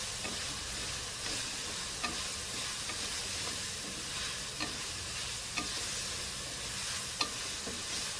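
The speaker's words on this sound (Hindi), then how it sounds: "इसको अच्छी तरह हमने फ्राई कर लेना है चिकन को।" Chicken pieces frying in a pan for a red chicken jalfrezi made with ketchup: a continuous soft sizzle with occasional light clicks and scrapes of stirring, fairly close.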